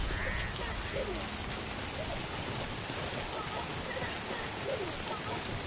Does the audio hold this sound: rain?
yes